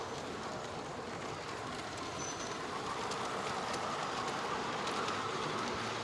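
A running model train at a Hogwarts Express display in Stein rolls steadily, a continuous soft rumble and rattling wheel noise at low level with no talking.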